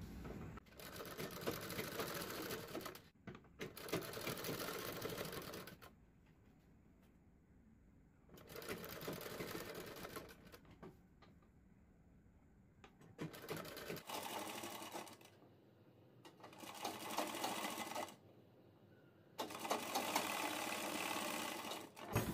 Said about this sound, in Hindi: इसको हम यहाँ पर रखेंगे और अपनी पट्टी के एक साइड यहाँ पर सिलाई लगाएंगे ताकि अटैच हो जाए।